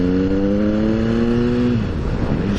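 A motorcycle engine accelerating in a lower gear to overtake on the road, a loud, steady rising drone for almost two seconds, then dropping to a rougher, lower rumble as the throttle eases.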